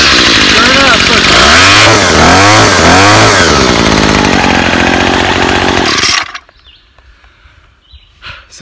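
A cheap $100 gas weed eater roars close and loud, its two-stroke engine revving up and down in waves before cutting out abruptly, after which only faint handling noises remain.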